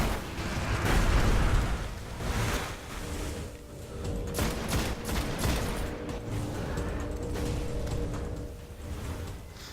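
Rocket blasts and gunfire in the video game Destiny during a Will of Crota strike, dense bursts of shots and explosions layered together, loud and continuous with no voices.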